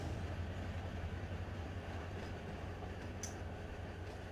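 A locomotive in the Run 8 train simulator pushes a cut of empty boxcars, giving a steady low rumble of rolling stock with a single faint metallic click near the end.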